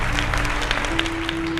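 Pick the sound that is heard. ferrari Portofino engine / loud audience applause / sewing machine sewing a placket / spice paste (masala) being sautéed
loud audience applause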